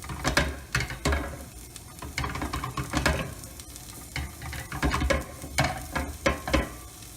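Onions sweat and sizzle in a hot pan for a puttanesca sauce. A steady frying hiss runs throughout, with repeated scraping and clacking bursts from stirring. No one speaks.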